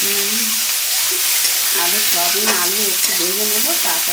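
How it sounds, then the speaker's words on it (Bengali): Potatoes and soybean chunks fry in hot oil with dried chillies and bay leaf, giving a loud steady sizzle broken by several stirring scrapes, with no talk. "এবার আমি আলু আর সয়াবিন ছেড়ে দিলাম"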